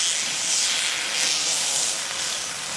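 A thermic lance made from spaghetti burns and melts metal, giving a loud, steady roaring hiss that swells and eases slightly throughout, with no talking.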